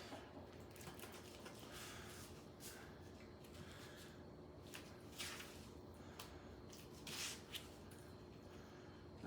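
A knife chops raw chicken thighs on a cutting board, producing a series of soft, irregular thuds and wet squishes, fairly quiet and close, spread over a low steady background hum.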